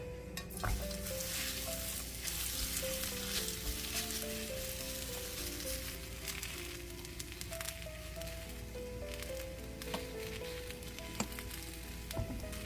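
Kimbap filling cooks in a pan with a little cooking oil, giving a soft continuous sizzle with occasional utensil taps, close and quiet, alongside faint tonal background music.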